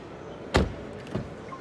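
A door on a 2023 Renault Austral closes and opens, heard as two close, soft thumps about half a second apart against a quiet background.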